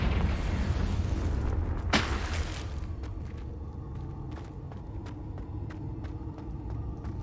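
A Confringo fire spell in Hogwarts Legacy bursts with a sharp crack at about two seconds, riding on a deep continuous rumble that lingers, with scattered faint ticks afterward.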